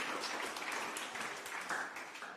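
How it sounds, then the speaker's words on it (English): Audience applause for lecturer Eric Villagomez at an evening talk; a dense, continuous patter of many hands clapping at a steady level for a couple of seconds. "please join me in giving a round of applause to Eric"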